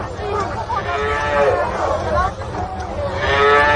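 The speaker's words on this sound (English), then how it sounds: "Ship the cows out of their byre." Cows mooing as a radio drama sound effect in a farmyard fire scene, several overlapping drawn-out lows near and loud, with a murmur of voices underneath.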